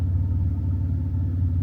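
A truck engine idles steadily nearby, a constant low rumble with no breaks and no voices.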